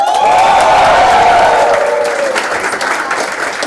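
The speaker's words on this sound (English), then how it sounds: "we have lovely people like you cheering for us" A college cultural fest crowd claps and cheers loudly after a performance, with a high shout riding over the applause early on before the clapping thins slightly.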